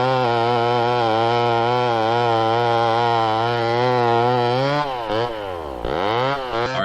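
A chainsaw cuts into a redwood tree, running at a steady high whine that bogs down and revs back up near the end, loud and close with no voices.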